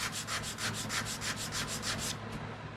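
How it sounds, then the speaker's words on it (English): Edges of cut popsicle-stick pieces are sanded in quick, even back-and-forth strokes, about a dozen rhythmic rasps, soft and close, ending with a few lighter rubs. "we will proceed to sand the edges so they are even"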